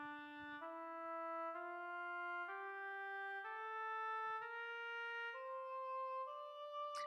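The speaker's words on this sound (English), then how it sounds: "So there's your Phrygian mode. It sounds like this." A Phrygian mode scale played as sustained notes on a keyboard-like instrument in a music theory lab, rising step by step with eight even tones, clear and alone with no talking.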